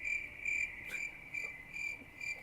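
A recording of crickets chirping plays alone, with steady high pulsing trills repeating in bursts about every half second, close and clear.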